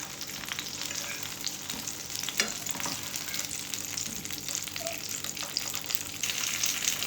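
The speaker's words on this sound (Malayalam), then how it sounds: "തക്കാളി രണ്ട് സൈഡും ഇതുപോലെ ഇട്ടിട്ട് കുക്ക് ചെയ്തെടുക്കണം" Tomato pieces fry in a pan for an English breakfast, giving a steady, close sizzle that runs unbroken for the whole stretch, with a few soft scrapes and stirring touches and no voices.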